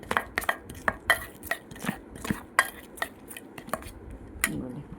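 A face pack paste is stirred and mixed in a bowl, with a spoon clinking and scraping in quick irregular taps and knocks, close and fairly quiet, with no talk.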